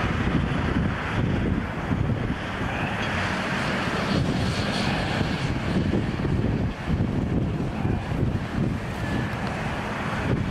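Aircraft engines drone steadily overhead for the whole stretch, loud and continuous, mixed with gusty wind buffeting the microphone on a cloudy, breezy day.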